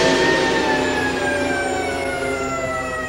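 A loud, steady wailing siren from a percussion ensemble piece, Varèse's Ionisation, with a slowly falling pitch, sustained throughout and heard on its own.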